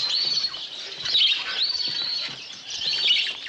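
Lovebird-like finches twitter in a pet shop scene from Alfred Hitchcock's film The Birds. The high, busy chirping is continuous and moderately loud, rising and falling in small waves, with no voices over it.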